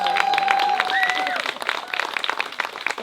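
Wedding guests applauding at a reception, a burst of clapping and cheering that begins loud and thins out over a few seconds, with voices talking above it.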